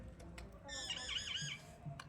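A hen lets out a short, shrill squawk, close and fairly quiet, with faint background noise around it.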